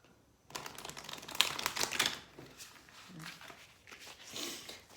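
An oracle card deck being shuffled by hand, with a burst of quick papery riffling and flicks close to the mic, then softer intermittent shuffling, all fairly quiet.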